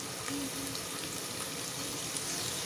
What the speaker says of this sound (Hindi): जब तेल अच्छे से गर्म हो जाएगा तो उसमें हम डाल देंगे बारीक कटी हुई प्याज